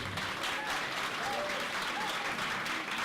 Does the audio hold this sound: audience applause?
yes